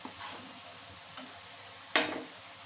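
Potato pieces frying in hot oil for a cabbage and hilsa-head stew give a low, steady sizzle with faint clicks, then one louder sizzling stir or scrape near the end. No one speaks.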